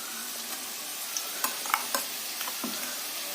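Ginger garlic paste sizzles softly in a pan with browned onions, a quiet steady frying hiss broken by several sharp scrapes and clicks of stirring.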